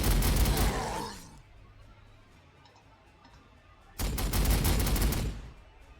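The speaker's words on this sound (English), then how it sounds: "Let's start with the heavy bolters." Heavy bolters fire in Warhammer 40,000: Sanctus Reach as Space Wolves engage mega nobz, coming as two loud sustained volleys of rapid gunfire separated by a quieter lull.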